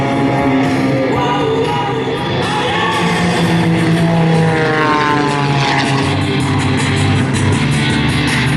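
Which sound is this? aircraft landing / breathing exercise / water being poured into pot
aircraft landing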